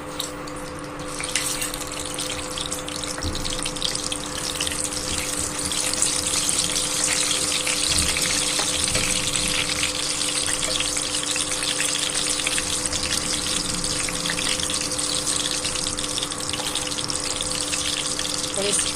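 Cumin seeds sizzling in hot oil in a pan while cooking an aloo soyabean curry: a steady, close hiss and crackle that holds evenly throughout, with no speech over it.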